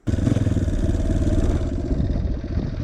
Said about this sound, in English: Now it's still in 6th gear, and that's really hard on the engine.